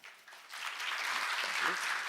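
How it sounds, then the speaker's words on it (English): Warm applause from a conference audience swells quickly and holds steady as a dense, continuous clatter of many hands, fairly loud and with no talk over it. "please join me in welcoming our chair and speakers and discussants with a warm round of applause."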